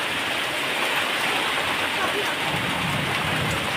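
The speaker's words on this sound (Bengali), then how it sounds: "প্রচুর বৃষ্টি," Heavy rain lashes down during a Kalbaishakhi storm, a loud, unbroken roaring hiss close by with possible low thunder rumbling underneath.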